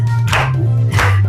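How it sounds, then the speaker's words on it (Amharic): Short burst of hand clapping by people at a birthday party, two quick claps close by over a steady background hum. "አሁን አጨብጭቡ።"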